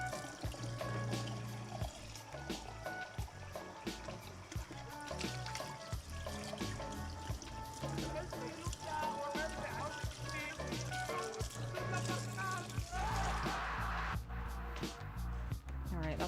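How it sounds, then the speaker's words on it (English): Water pours into a container to rinse it. The splashing and trickling runs steadily for about sixteen seconds, with clinks and knocks scattered through it, and a louder, fuller gush near the end. "that's rinsed enough so it's not contaminated with other fluids"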